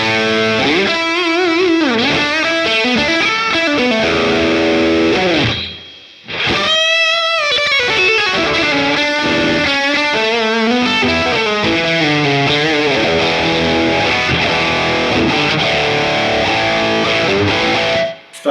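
Electric guitar through a Boss Katana amp with DS-1 distortion pedal, loud gnarly distorted riffs and sustained bends, with a short pause partway through before playing resumes and rings out to the end.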